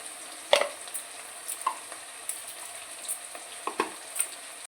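Ground ginger and Kashmiri chilli powder masala frying for a prawn pulao, a soft steady sizzle punctuated by irregular scrapes and knocks of a spoon stirring in the pan.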